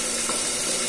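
Fish frying in a pan gives off a loud, steady sizzle with a bright hiss that runs without a break, and no voices are heard.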